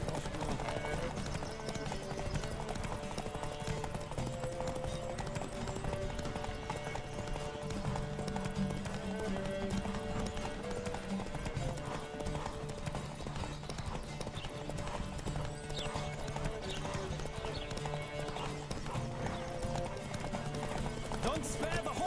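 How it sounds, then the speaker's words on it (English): Galloping horse hooves in The Witcher 3 video game beat a continuous clip-clop rhythm under dense game music and ambience, steady and moderately quiet for the whole stretch. "Don't spare the horse!"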